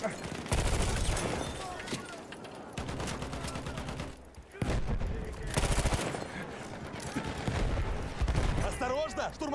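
Flaming-bullet gunfire in the Battlefield 1 video game rattles in dense repeated bursts under near-constant player talk, with brief lulls between volleys.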